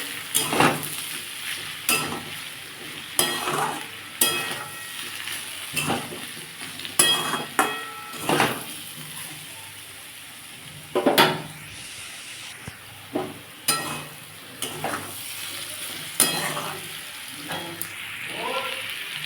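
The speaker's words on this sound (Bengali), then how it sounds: "এটাকে আমি একটু নেড়ে নেবো" Aloo posto (potatoes with poppy seed paste) frying in a pan, stirred repeatedly in uneven bursts of scraping and clattering over a steady close sizzle, with no talking.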